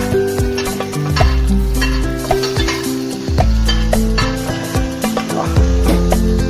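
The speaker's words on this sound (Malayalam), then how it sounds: "ഇതെല്ലാം ഇട്ട് ഒന്ന് വഴറ്റാം." Ingredients sautéed in hot oil with popped mustard seeds for a chicken curry, a loud close sizzle under repeated scraping and clanking of a spatula stirring against the pan, without any talking.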